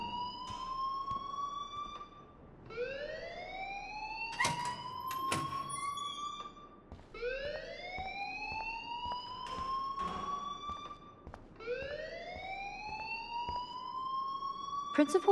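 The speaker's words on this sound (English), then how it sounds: "please turn off that alarm since that's your job" A school alarm rings in the game Life Is Strange, a loud wailing siren that rises in repeated upward sweeps every few seconds, joined by a few sharp clanks.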